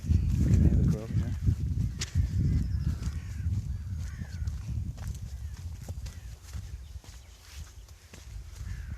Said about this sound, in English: Crows. You can hear the crows,